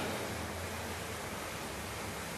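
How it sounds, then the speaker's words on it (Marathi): Wet paneer frying in hot oil in a kadhai, a dense, steady, loud hiss and sizzle with no pauses, filling the whole short stretch. "आता आपण याच्यामध्ये पनीर फ्राय करून घेऊया"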